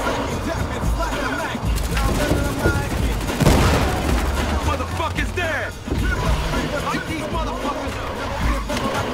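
Chaotic Battlefield Hardline gunfire on the Dustbowl map in Hotwire mode, with dense rapid bursts, a loud crashing impact midway and vehicle noise mixed in, and voices talking over the din.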